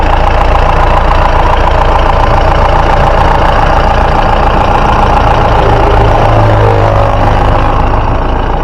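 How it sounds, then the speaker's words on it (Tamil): A low-budget Mahindra Bolero engine idles steadily and loudly up close for the whole stretch, a constant rumbling drone with a faint knocking texture and no voices. "வண்டியோட இன்ஜின் சவுண்டாக அமைதியாக கேளுங்க"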